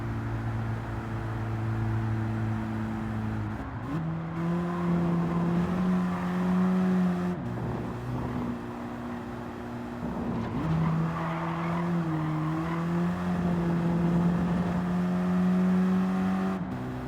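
A 2016 Toyota Hiace Van DX engine pulls hard through the gears, its tone climbing with each gear and dropping briefly at every shift, loud and up close with no voices.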